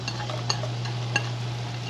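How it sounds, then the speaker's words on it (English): Chopped onion, about half of one, sizzling in canola oil in a hot pan, a steady close frying hiss with a low hum beneath and two brief clinks. "I got a hot pan here with some canola oil in there. And we are going to add in these nice chopped onions."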